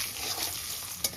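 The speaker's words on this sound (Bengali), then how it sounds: "গরম তেলের মধ্যে লবণ আর একটু হলুদ দিয়ে ডিম ভেজে নেব" Eggs fry in hot oil seasoned with salt and turmeric: a close, continuous crackling sizzle with faint stirring scrapes and one sharper pop near the end.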